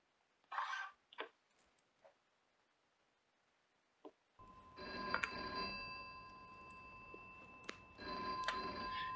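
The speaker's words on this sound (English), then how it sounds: "hold on a second, my phone is ringing" After a few faint knocks, a telephone bell rings loudly in two long trilling bursts separated by a short pause.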